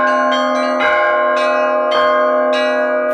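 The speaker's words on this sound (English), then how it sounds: "At first, Alexander rings the bells himself." A bell ringer strikes a set of Russian church bells in Suzdal at close range. Sharp strikes fall in a steady rhythm, each setting off loud, ringing overtones over a sustained hum, and no voices are heard.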